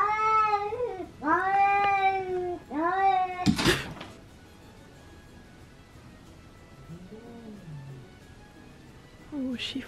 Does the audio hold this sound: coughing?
no